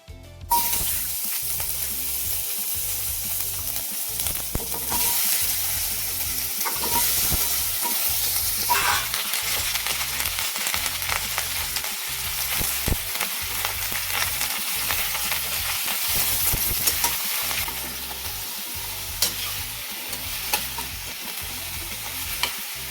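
Grated carrots fry in ghee for gajar halwa, producing a dense, continuous sizzle over a regular rhythmic scraping of a spoon stirring the pan throughout.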